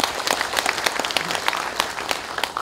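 An audience at a national general assembly of a Korean police veterans' association applauds for the Minister of the Interior and Safety, with individual sharp claps standing out from a moderate, steady round of clapping.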